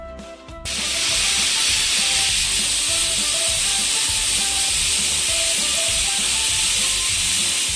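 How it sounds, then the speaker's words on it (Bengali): A pressure cooker loaded with mutton curry vents steam on a medium flame, a loud, steady hiss that holds for several seconds with no talking over it. "মিডিয়াম ফ্লেমে 5টা সিটি দেওয়া অবধি রান্না করব"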